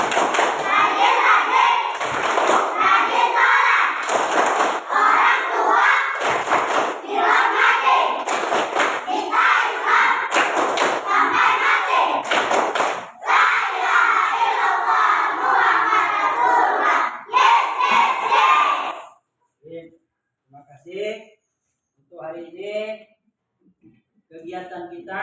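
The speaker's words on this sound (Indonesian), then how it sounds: "sebelum kita akhiri Bapak mau dulu tepuk anak soleh" Children in a classroom doing a rhythmic clapping chant together, loud group voices with bursts of hand claps for most of the clip, then fading into sparse quieter speech.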